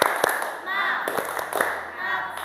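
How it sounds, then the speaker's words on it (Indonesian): A primary school class claps a rhythmic spirit clap, sharp hand claps in an uneven pattern rising over children's voices chanting along in a classroom. "Tepuk semangat."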